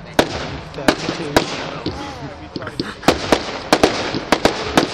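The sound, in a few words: fireworks exploding at Stoke Park display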